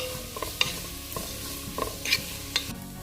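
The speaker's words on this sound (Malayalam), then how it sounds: "25 ചെറിയുള്ളി അരിഞ്ഞതും 2 പച്ചമുളകും കുറച്ച് കറിവേപ്പിലയും പെട്ടെന്ന് വഴന്ന് കിട്ടാൻ വേണ്ടിയിട്ട് കുറച്ച് ഉപ്പും കൂടി ചേർത്ത് നന്നായിട്ട് വഴറ്റിയെടുക്കാം" Chopped shallots, green chilies and curry leaves with salt sautéing in a pan for chicken perattu, a soft continuous sizzle with a few sharp spoon clinks against the pan, no voices.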